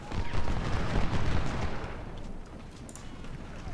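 Artillery fire in a video game booms in a dense run of heavy, overlapping blasts that roll together loudly, then thins into a lower rumbling tail with scattered distant impacts.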